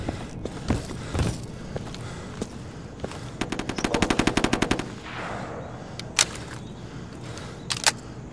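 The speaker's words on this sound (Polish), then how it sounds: "A, ktoś do mnie strzela." Rapid automatic gunfire in the video game Insurgency during a 5v5 firefight: a fast, loud burst of machine-gun fire at the middle, framed by scattered single shots and clicks.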